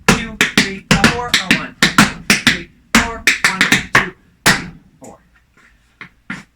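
Crisp tap-shoe strikes in quick rhythmic bursts of stamp, shuffle and step, loud and close, with a few sparser, softer taps trailing off at the end.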